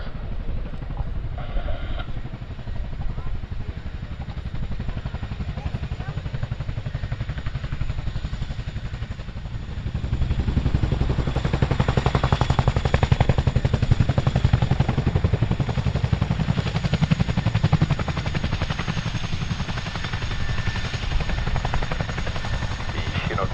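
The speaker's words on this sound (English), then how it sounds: "you'll see the tandem rotors of the Chinook used to bring the aircraft to a complete stop" A Chinook tandem-rotor helicopter lands at the RAF Cosford airshow, its rotors giving a loud, continuous chopping thud that grows heavier and denser about halfway through and then holds steady.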